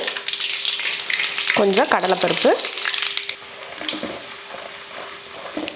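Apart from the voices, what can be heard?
mustard seeds and urad dal sizzling in hot oil in a kadai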